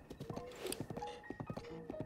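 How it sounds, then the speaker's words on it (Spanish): Galloping horse in The Legend of Zelda: Breath of the Wild, a fast, steady rhythm of hoof clip-clops running throughout over game music, close and fairly loud. "este caballo encima corre tela"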